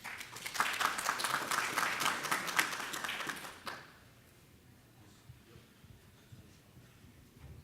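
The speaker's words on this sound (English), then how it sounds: "Round of applause for Ed, please." An audience claps for a few seconds, dense applause that stops abruptly, leaving quiet room noise.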